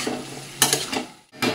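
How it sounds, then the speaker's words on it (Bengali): Chicken and spice paste fry in a pan while being stirred, a steady close sizzle broken by scraping strokes of the spoon, with a brief lull before the stirring resumes. "এটা ভালো করে এবার নাড়াতে হবে।"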